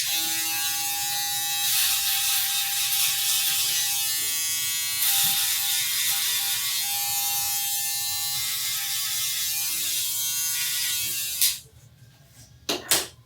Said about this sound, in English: I think it makes more sense to just use the electric shaver.